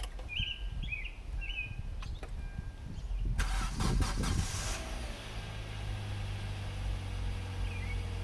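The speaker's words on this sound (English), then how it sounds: "Hear that serpentine belt." A car engine cranks and catches with a loud burst, then settles into a steady idle with a continuous whine from the serpentine belt; birds chirp faintly beforehand.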